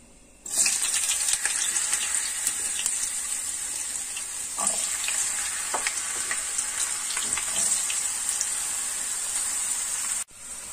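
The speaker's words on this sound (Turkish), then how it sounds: "Patatesleri kızarmak için atıyoruz." Potatoes frying in two pans on a stovetop, a steady loud sizzle with crackling pops that holds evenly for about ten seconds before cutting off abruptly near the end.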